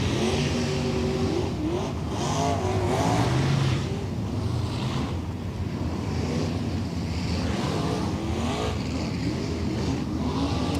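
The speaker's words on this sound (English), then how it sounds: "Lots and lots of good race cars on hand here tonight." Late model race cars at Maquoketa Speedway in a World of Outlaws night event: a dense, continuous roar of several engines revving and passing, loud and steady throughout.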